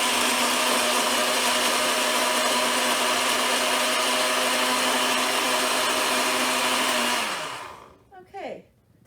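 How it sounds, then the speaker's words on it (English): Kitchen blender on its smoothie setting whirring loudly and steadily for about seven seconds, then winding down to a stop, followed by faint clinks. "here on my blender, I have a button that says smoothie, so we're going to try it on that first"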